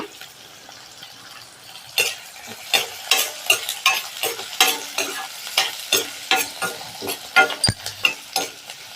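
Shallots and cumin sauté in a pan, giving a soft sizzle under a busy, uneven rhythm of spatula strokes scraping and tapping the metal close by, with no talk.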